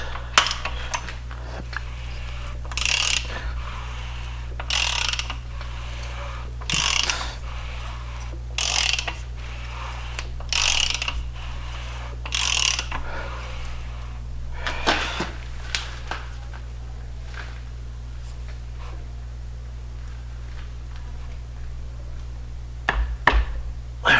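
A socket ratchet turns an engine over by hand after the lifters are fitted, giving repeated bursts of ratcheting clicks in a steady rhythm with short pauses between pulls, heard close over a constant low hum.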